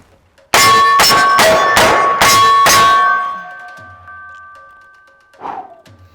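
Six sharp metallic clangs in quick, even succession from .44 Magnum rounds striking a steel silhouette target, each ring sustaining a bright tone that fades away, followed by a faint later ping.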